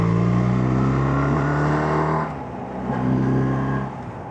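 A BMW R1300RT touring motorcycle accelerates to overtake in busy traffic, its engine note steady and loud for about two seconds, dipping briefly, then swelling again as it pulls past, with wind and road noise throughout.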